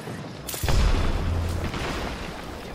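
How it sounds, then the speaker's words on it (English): A deep airstrike explosion in Apex Legends booms close and loud with a sharp onset, then rumbles and decays over a couple of seconds amid background gunfire. "Watch an airstrike."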